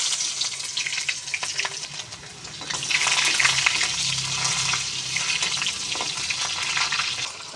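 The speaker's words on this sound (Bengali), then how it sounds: "তারপরে কালি জিরে ফোড়ন দিয়ে ছোট্ট একটা পেঁয়াজ কুচি দিয়ে দেবেন" Onion and nigella seeds frying in hot oil in a wok, giving a steady, close sizzle that swells louder partway through and then holds, with no talking.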